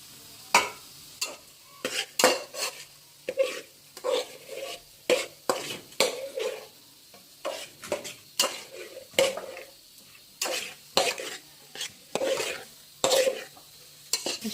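A spatula stirs coriander and mint into a frying pan with garlic paste, making repeated scraping strokes in a steady rhythm over a soft sizzle, close up with no talk.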